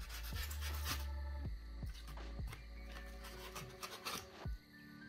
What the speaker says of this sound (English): Carving from rough shapes to finer shapes.